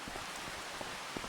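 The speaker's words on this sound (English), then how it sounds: "Let's not stand in the rain." Rain in Farming Simulator 25 falls as a steady, soft hiss of drops on surfaces, faint and uniform, with a few slightly louder drop patters and no voices.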